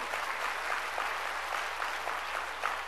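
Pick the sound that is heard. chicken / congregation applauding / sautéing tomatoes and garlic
congregation applauding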